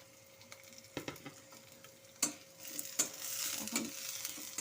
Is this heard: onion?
yes